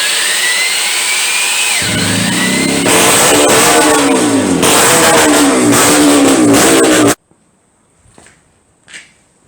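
A motorcycle engine being run in after a rebuild revs loudly and steadily for about seven seconds, rising in pitch, then cuts off abruptly, leaving a couple of faint knocks.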